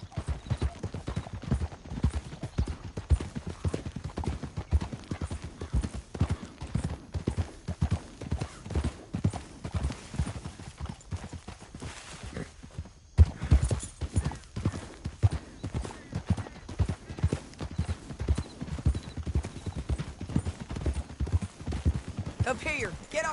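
Rapid rhythmic hoofbeats of galloping horses in Red Dead Redemption 2 pound steadily throughout, with occasional whinnies and distant gunfire mixed in.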